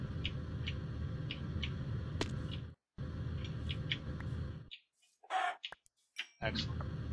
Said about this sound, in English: There's a chicken over here somewhere.